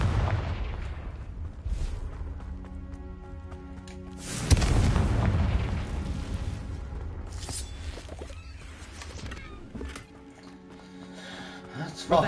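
A Confringo fire spell explodes in Hogwarts Legacy with a heavy boom partway through, followed by a long rumbling, crackling burst that slowly fades under game sounds.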